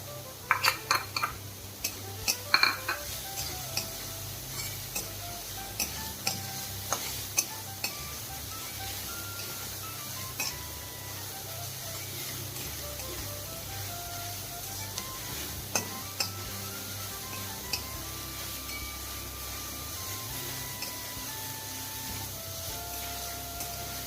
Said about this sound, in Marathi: गॅस मोठाच ठेवायचा आणि व्यवस्थित हे परतून घ्यायचं.